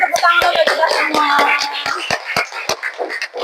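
A school class clapping their hands, about a dozen sharp claps spaced fairly evenly over a few seconds, mixed with children's voices and chatter.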